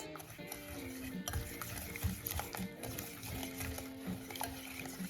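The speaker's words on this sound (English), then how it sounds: "Add a pinch of salt and mix everything together until smooth" A utensil stirs cruffin dough ingredients, egg yolks and a pinch of salt in a bowl, giving faint rhythmic scraping and clinks at a steady pace, close but quiet.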